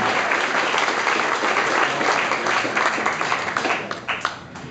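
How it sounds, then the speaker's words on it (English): A crowd at a festival opening in Vancouver applauds in a dense, steady wash of clapping that thins out and fades toward the end. "please join me in giving me a big round of applause"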